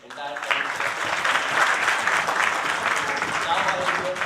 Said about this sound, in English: Good round of applause for the entire panel.